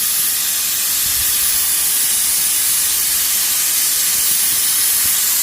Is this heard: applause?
no